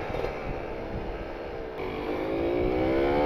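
A Kawasaki Ninja RR two-stroke motorcycle with an R9 Neo Mugello carbon exhaust and a PWK28 carburettor on a rich setting, its engine running loud and close with a rough, raspy idle before the revs climb steadily and hold high.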